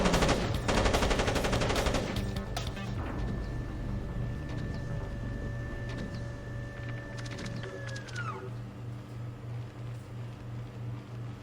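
Rapid machine-gun bursts from an automated gun turret in the Splinter Cell stealth game rattle loudly at first, then give way to a sustained mechanical whine that rises and cuts off, over a steady low hum.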